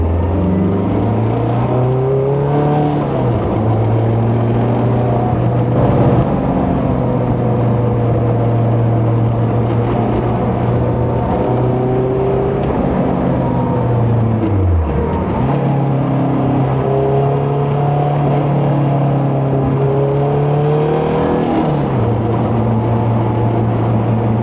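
A Caterham 340S sports car driving on mountain roads, its engine droning loud and close throughout, pitch rising steadily through each gear and dropping sharply at shifts, the cycle repeating several times with no talking.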